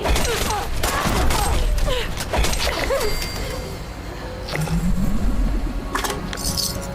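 Gunfire in Fallout 76, several sharp shots in the first few seconds and a few more scattered later, close and fairly loud over game ambience, with a voice now and then.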